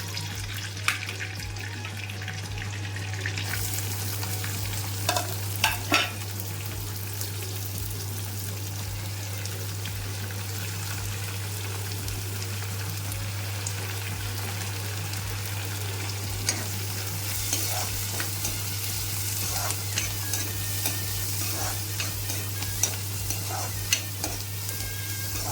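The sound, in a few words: onions frying in oil with garlic in a wok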